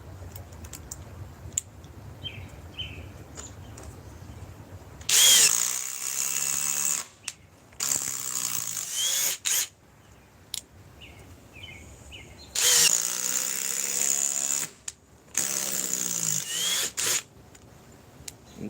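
A DeWalt 860 power tool runs in two loud bursts of roughly two and a half seconds each, separated by quiet handling noises and faint clicks.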